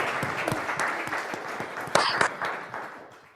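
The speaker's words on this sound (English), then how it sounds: "Round of applause." An audience at an alumni fellow conversation applauds, with scattered individual claps standing out from the crowd before the clapping fades away.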